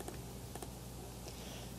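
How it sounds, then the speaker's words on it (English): Quiet keystrokes on a computer keyboard tap in a few soft clusters against steady background hum, with no voice. "and just start typing"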